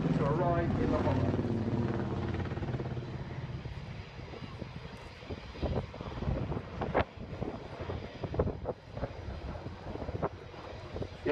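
Apache attack helicopter flying an airshow display at Farnborough, coming out of a corkscrew into a 360-degree quick stop: a steady rotor and engine roar that thins into sharper, choppy bursts, with a commentator talking over it.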